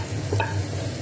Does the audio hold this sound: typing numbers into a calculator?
no